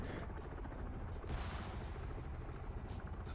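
A helicopter in a large PvP video game battle gives a steady rotor drone under the action, with faint gunfire layered in.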